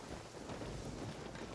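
Low rumbling thunder from the video game Genshin Impact rolls beneath steady rain and wind, a broad continuous wash at moderate loudness with no talking.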